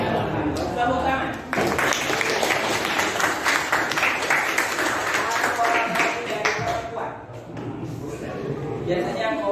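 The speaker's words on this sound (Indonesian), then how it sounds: "Tepuk tangan." Applause breaks out in a classroom, a broad wash of clapping filling most of the stretch with a short dip near the start and another later, voices audible underneath.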